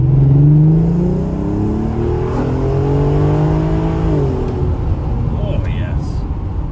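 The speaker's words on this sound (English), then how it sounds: "I'm going to leave you with some V6 TT noise" An Audi TT's V6 engine pulls hard under acceleration, its tone rising steadily through the revs, easing off and building again, with the drone continuing beneath road noise.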